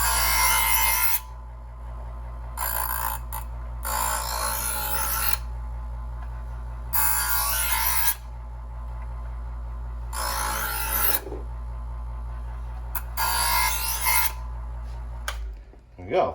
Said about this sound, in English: And then the buffing wheel.